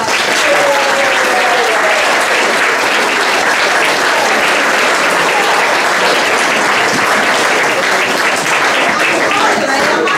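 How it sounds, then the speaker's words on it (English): An audience at a Sleeping Beauty stage show gives the cast a sustained, dense round of applause, loud and steady from start to finish with scattered cheers in the crowd. "Give her an extra round of applause."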